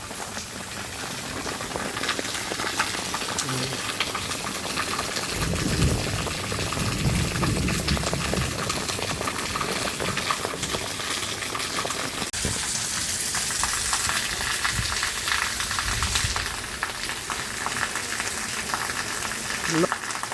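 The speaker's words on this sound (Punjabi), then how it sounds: "ਉਹ ਪਾਣੀ ਬਹੁਤ ਜ਼ਿਆਦਾ ਆ ਰਿਹਾ" A steady, loud rush of heavy monsoon rainwater pours and splashes continuously through a village, flowing hard with no pauses.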